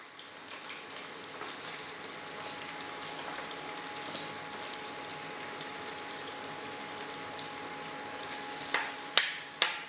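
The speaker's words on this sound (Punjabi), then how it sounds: "ਕਿਉਂਕਿ ਤੇਲ ਗਰਮ ਸੀ ਲਸਣ ਆਪਣਾ ਭੁੱਜ ਗਿਆ ਹੁਣ ਇਹਦੇ ਵਿੱਚ ਆਪਾਂ ਪਿਆਜ਼ ਐਡ ਕਰ ਦਿੰਨੇ ਆ" Onion and garlic fry in hot oil, giving a steady close sizzle and hiss that runs evenly throughout, with a few sharp clanks near the end and no talk.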